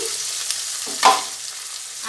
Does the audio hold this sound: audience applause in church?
no